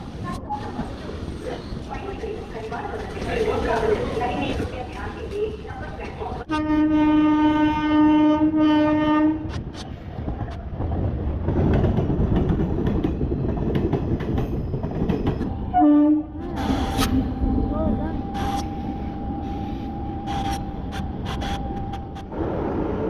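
Trains arriving and departing at a busy Tambaram railway station: a loud rumble with clattering wheels, two long horn blasts and a shorter one, all under a murmuring crowd and nearby voices.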